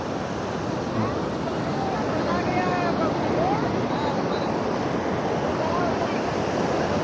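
Sea waves crash and roar steadily, a dense continuous wash of surf with wind buffeting the microphone.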